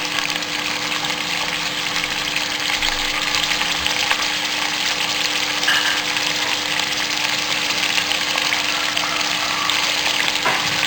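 Ginger garlic paste frying for nihari, a continuous dense sizzling hiss with a steady low hum underneath, fairly loud and close, no voices.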